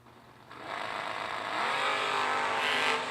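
Drag race cars launch down the strip at a motorsports event, starting quietly and then building into a loud, rising engine roar that swells and holds until the end.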